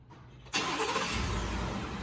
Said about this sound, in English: I'm going to show you one more time of how it does start up.